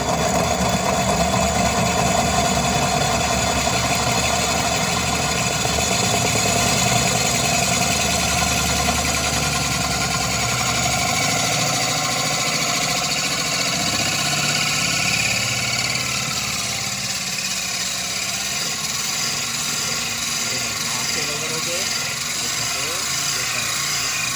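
A power drill runs steadily and close, drilling into glass, its grinding whir droning on for a long stretch, with a voice occasionally present.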